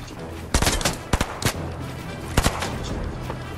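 Video game gunfire cracks out in sharp, loud bursts, a rapid cluster of shots followed by a few more after a pause, close to the listener, with no speech over it.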